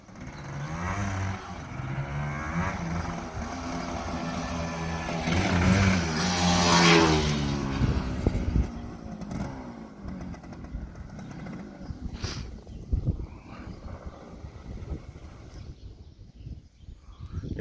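A two-stroke motorcycle engine runs up close, rising to a buzzy rev before settling into a rougher, uneven idle with popping bursts.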